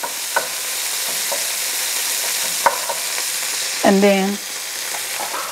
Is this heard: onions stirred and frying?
yes